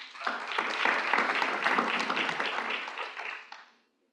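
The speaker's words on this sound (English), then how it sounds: "So please give her a round of applause as she enlightens us." Applause from an audience at a biodiversity finance event welcomes a speaker, a crisp, moderately loud burst of clapping lasting about three and a half seconds before cutting off into silence.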